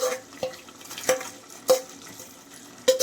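Bread halwa with ghee-fried dry fruits being stirred in a pan, a spoon scraping and knocking against the metal in four or five distinct strokes over a low background sizzle.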